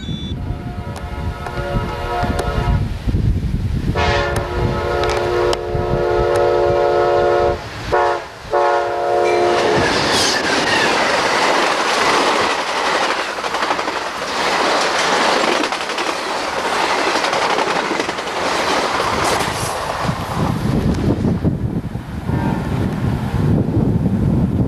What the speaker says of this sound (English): we catch Amtrak 92 speeding south toward Tampa